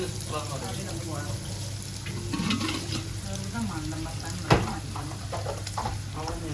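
Fish and prawns fry in a steady sizzle with stirring scrapes and a sharp clink midway, under continuous background talk.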